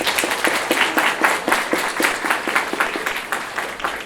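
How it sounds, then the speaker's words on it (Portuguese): Audience applause at an academic talk event, a small crowd clapping with distinct individual claps at a fairly quick, uneven rhythm for several seconds, moderately loud. "Salve de palmas."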